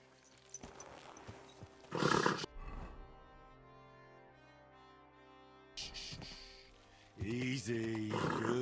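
A horse in the medieval video game Kingdom Come Deliverance II gives a snorting, whinnying call, with a few loud bursts of breath and shaking tack around it and a sustained tonal stretch in between, close and clear with no talk.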